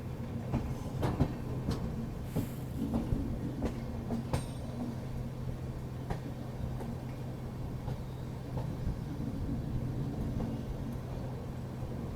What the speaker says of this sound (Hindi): बहुत ही अच्छा शार्प कर्व लेते हुए ट्रेन जा रही है अपनी